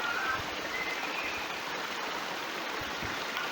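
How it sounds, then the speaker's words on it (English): Steady broadband rush of a waterfall and stream pouring down a hillside, constant and fairly faint, with no voices over it. "See the waterfall coming down."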